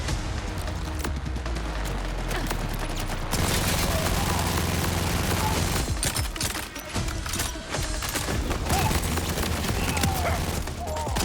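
Rapid bursts of gunfire in the video game Borderlands 4 fill the whole stretch, dense and loud with repeated shots, booms and clattering mechanisms that barely let up.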